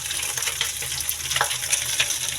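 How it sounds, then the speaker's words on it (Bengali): Catla fish head frying in hot oil in a pan, a dense, steady crackling sizzle up close with small pops and faint utensil movements, no voices. "কাতলা মাছটা ভালো করে আগে ভেজে নিচ্ছি"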